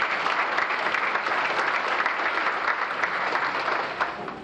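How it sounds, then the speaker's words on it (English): Banquet guests at a 1998 county FFA event applaud the senior officers, a full, steady round of clapping from a crowd that tapers off slightly at the end. "Give them a round of applause."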